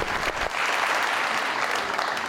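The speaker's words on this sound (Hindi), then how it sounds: "बहुत सारी तालियां हैं।" Studio audience applauding as a guest walks onto a television talk show: loud, dense clapping that dips briefly near the start and then holds steady to the end.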